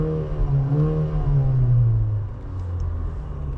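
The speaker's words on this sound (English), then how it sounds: "in race mode, as you'll see in the engine sound section coming up, it's actually pretty loud and pretty sporty" Engine of a 2024 Haval H6 GT in race mode revs up and rises in pitch, a loud, steady rumble that swells for a few seconds and then eases slightly, with no talking.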